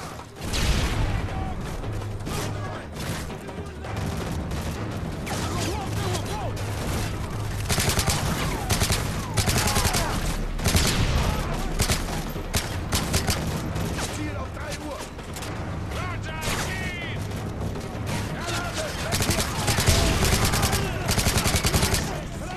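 Rapid gunfire from Call of Duty: Modern Warfare 3 during a sniper mission, dense bursts of shots and clattering weapon mechanics that run continuously and loud throughout.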